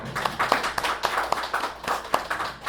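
A church congregation applauds the choir during a Sunday worship service, a dense stretch of steady clapping from many hands at moderate loudness, with no voices over it.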